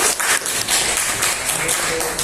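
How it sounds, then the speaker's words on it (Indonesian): Classroom applause during a teaching-practice lesson, a dense, steady patter of many hands clapping that carries on for a couple of seconds with slight swells. "Beri tepuk tangannya dulu."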